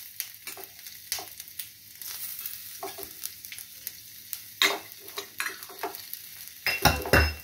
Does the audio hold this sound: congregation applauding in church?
no